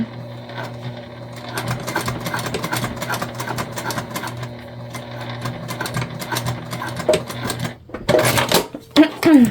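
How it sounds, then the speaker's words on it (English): A domestic sewing machine runs in bursts, stitching a D-ring connector onto a tote bag just above the flap. The stitching rattles steadily up close for several seconds, pauses briefly, then resumes in short fast runs. "we are stitching our D-ring connector right above the flap"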